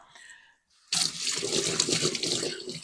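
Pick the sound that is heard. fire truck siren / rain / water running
water running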